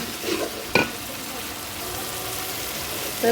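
Chicken meat cooking in a pan over a stove flame, a steady loud sizzle with occasional stirring scrapes, one sharp clack near the start.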